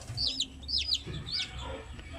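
Newly hatched Shamo Aseel chicks in an incubator give three sharp, high chirps in quick succession over the first second and a half, faint and close, with soft low rumbling behind.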